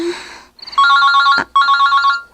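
A cellphone ringtone trills loudly and close in a bright, repeating electronic ring, two bursts separated by a brief break, with no voices over it.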